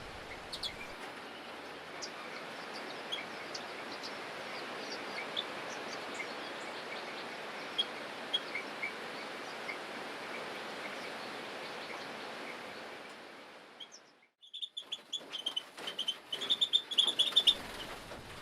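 Young redpolls and bullfinches in a breeding setup give a dense, steady wash of high chirps over broadband hiss, then after a brief lull a closer, clearer run of sharp individual tweets.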